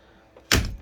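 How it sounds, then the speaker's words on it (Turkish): The door of a 1957 Chevrolet shuts with a single solid, close thunk after a moment of quiet. "Zaten sesi bile kapıyı kapatırken"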